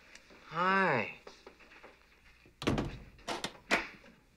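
A door at a city morgue is shut and locked. A voice is heard briefly, then a few heavy clunks and knocks of the latch and lock follow, close and fairly loud.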